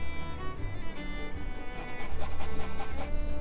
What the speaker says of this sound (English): I'm using a microplane zester to finely grate the garlic